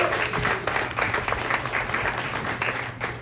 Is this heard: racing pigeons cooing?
no